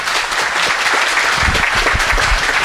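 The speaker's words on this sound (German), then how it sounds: "Einen herzlichen Applaus" Warm audience applause at a Low German Bible school graduation in Paraguay, loud and continuous, with a dense wash of many hands clapping throughout.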